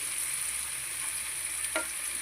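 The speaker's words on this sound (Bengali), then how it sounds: "পেঁয়াজগুলোকে একটু ভাজা ভাজা করে নিয়ে, অল্প সামান্য একটু ভাজা ভাজা করে নিয়ে" Onions frying gently in a pan, a soft, even sizzle sitting low and constant, with a single brief scrape or stir near the end; fairly quiet and without any voices.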